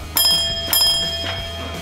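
A pizzeria service bell rings twice with bright metallic dings about half a second apart, followed by lingering tones and a softer third tap, close and clear with no talking.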